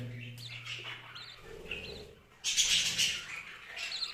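Small birds chirp and tweet softly nearby in scattered bursts, growing a little busier toward the end, with no talking.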